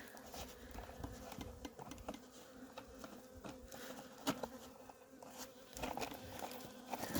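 Honeybees buzz close by at an open hive in a busy, wavering hum, with small knocks and rustles mixed in.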